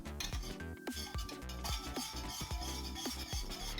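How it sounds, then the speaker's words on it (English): A spoon stirs creamy pumpkin soup with added cream in a metal pan, giving repeated scraping clinks and knocks against the pan in a steady rhythm, close and fairly quiet. "and obviously give it a mix."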